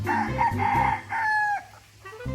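Close, loud crowing from a Pitbull gamefowl rooster on a farm: one full multi-part crow that ends in a drawn-out high note, followed by a brief softer call.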